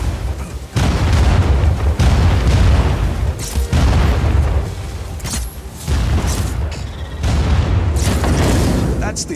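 Heavy cannon explosions in the Just Cause 4 video game boom repeatedly, about four loud blasts in succession, each with a deep rumbling tail, under a dense layer of game noise.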